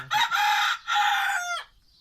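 Chickens in a small backyard flock crow and cluck in two loud, close bursts, the second trailing off into quiet.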